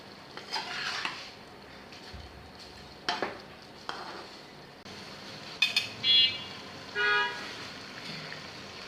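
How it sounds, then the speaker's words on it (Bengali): Spices stirred into food in a pot for a hilsa fish curry: soft scattered clinks and scrapes of a utensil against metal, with a low background sizzle and a few sharper knocks, fairly quiet and without talk. "এখন ভালো মতো নেড়ে দিব"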